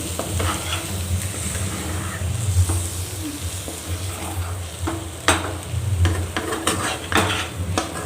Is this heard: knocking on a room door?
no